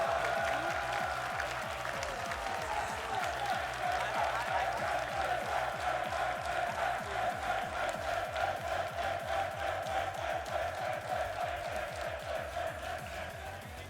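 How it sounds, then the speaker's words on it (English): Audience at an esports one-versus-one tournament final cheering and applauding the champion, a dense, roaring mix of clapping, whoops and crowd noise with rhythmic chant-like pulses, slowly fading toward the end. "Please give him a round of applause again."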